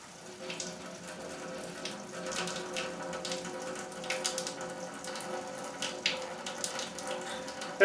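Water streams steadily as a pump draws it from a homebrew hot liquor tank through a hose, a continuous close rushing flow with faint splashy flickers and a small bump at the end.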